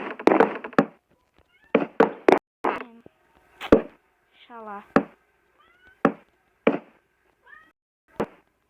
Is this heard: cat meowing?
yes